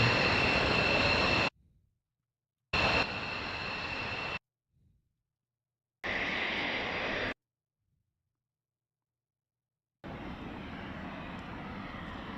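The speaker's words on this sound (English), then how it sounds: "Japanese journalist girl flies in F-15 jet." F-15 fighter jet in flight, its loud, steady engine roar coming in several separate bursts of about one to two seconds each, broken by abrupt silences.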